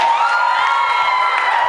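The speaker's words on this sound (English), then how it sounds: "them another round of applause" Crowd at a school tournament closing ceremony cheering and applauding, a dense sustained wash of clapping and shouts, loud and continuous without pauses.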